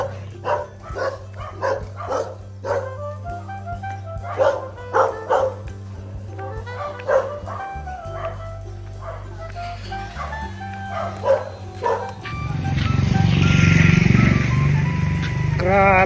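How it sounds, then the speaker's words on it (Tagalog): A white dog barks in short repeated bursts nearby in a subdivision street, mixed with yips. An engine rumbles underneath, and a vehicle passes loudly at the end. "Ito may asong puti rito."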